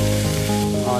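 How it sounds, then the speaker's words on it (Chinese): Sliced beef sizzling in a hot wok after a splash of cooking wine, a loud, steady frying hiss with no pause through the short moment. "把它炒了一点泛白就可以了"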